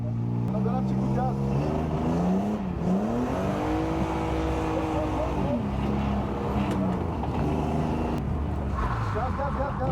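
A car engine is blipped and revved repeatedly with the throttle, its tone climbing and falling in sweeping arcs over a constant loud rumble, heard up close and mostly on its own.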